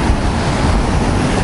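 Surf rolling onto a sandy Black Sea beach at Khosta near Sochi in December, a steady loud wash of breaking waves mixed with wind rumble against the microphone, with no voices.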